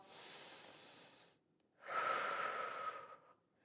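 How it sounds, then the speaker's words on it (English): Two deep breaths are taken during a core workout, each drawn in through the nose and let out through the mouth. They sound close and clear, with no talking. "Big breaths in through the nose, out through the mouth."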